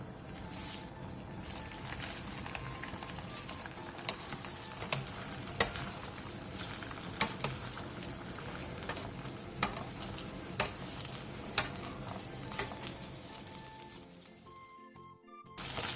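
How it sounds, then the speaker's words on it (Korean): A sauce of soy sauce, soju, oligosaccharide syrup and dried shrimp bubbles in a pot and is stirred, steady close sizzling broken by repeated sharp scraping clicks of the spoon, fading near the end. "화면처럼 물이 바글바글 끓어오르면 중약불로 줄여 30분간 졸여주세요."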